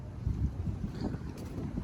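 Steady wind gusting across a microphone, a low rumbling buffet that rises and falls throughout, with faint water-like wash beneath.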